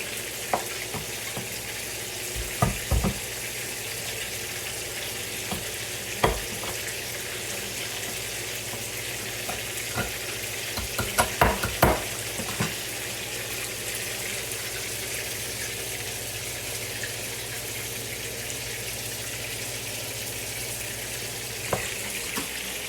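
Guinness and condensed milk being stirred into a pot for a Jamaican recipe: a steady hiss of liquid with scattered light clinks of a utensil against the pot, close and continuous, with no one talking.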